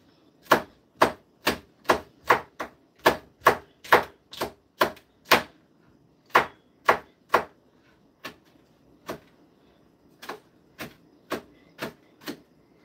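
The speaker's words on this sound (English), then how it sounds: "I'm chopping up some red peppers" A knife chops red bell peppers on a board in crisp, sharp knocks, about twenty in all, quick and even at first and then slower and spaced out, close and alone.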